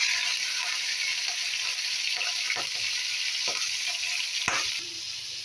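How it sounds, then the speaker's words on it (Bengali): Prawns frying in hot oil with ginger give a steady, bright sizzle, punctuated by a few clinks of a spatula against the pan. "আদাটা ভাজা হয়ে গেলে এর মধ্যে আমি চিংড়ি মাছটাকে দিয়ে দেবো"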